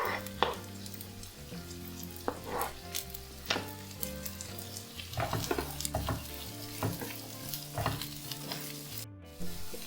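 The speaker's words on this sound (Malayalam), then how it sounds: "ചെറിയ ക്യാരറ്റ്, കുറച്ച് കാബേജ് ഇതുകൂടെ ചേർത്ത് കൊടുത്തിട്ട് ഒന്ന് വഴറ്റാം." Sliced carrot and cabbage sautéing in a pan for a paneer cheese sandwich: a soft continuous sizzle with repeated scrapes and taps of a spatula stirring the vegetables, fairly quiet and close.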